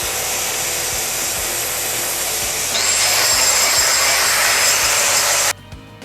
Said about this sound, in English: I'm gonna put some holes in this axle to make some plug welds